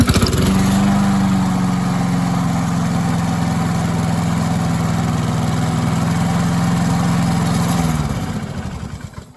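A Honda GCV160 lawn mower engine, recently repaired after smoking badly, fires up and runs at a steady, loud idle for several seconds before dying away near the end, with no voices over it.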